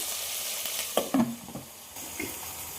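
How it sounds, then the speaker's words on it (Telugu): Tomatoes added to fried onions in a pan sizzle softly, with a few brief stirring scrapes and clicks near the middle over a steady low crackle. "ఎర్రగడ్డలు అయితే ఫ్రై అయిపోయినాయి. ఇప్పుడైతే టమోటాలు వేసేసుకుంటున్నాం."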